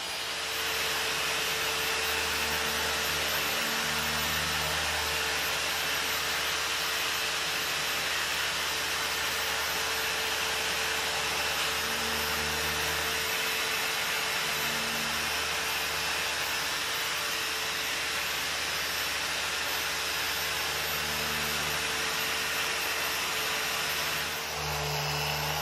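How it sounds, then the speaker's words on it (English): A 3-inch polisher works the curved panels and headlight area of a 1937 Hudson Terraplane under restoration, giving a steady, close whirring drone with a faint hum that rises and falls slightly as pressure changes, with no talking. "We're going to work on these curvy areas and the headlight with a 3-inch polisher."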